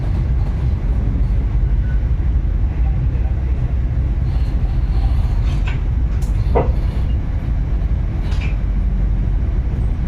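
Low, steady rumble of the Tawang Jaya passenger train at Poncol station in Indonesia, continuous and close, with a few brief higher clanks and squeaks on top.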